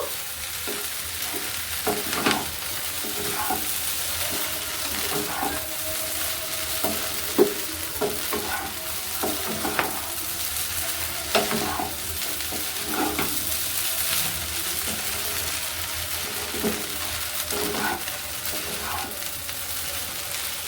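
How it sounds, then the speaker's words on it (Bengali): Egg masala pasta with chopped coriander is stirred in a frying pan, a steady sizzle under repeated scraping and clinking strokes of the spoon, close and continuous throughout. "ধনেপাতাটা দিয়ে আরেকটু ভালো করে নাড়াচাড়া করে নেব"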